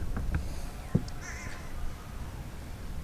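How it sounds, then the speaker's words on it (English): A crow caws a few times, loud and close, while a mockingbird chases it through a coastal state park at Grayton Beach, Florida, with thin bird calls mixed in. "like a mockingbird chasing down a crow"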